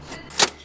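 Keys jangle briefly in a sharp metallic burst close by, a single quick shake over a quiet background.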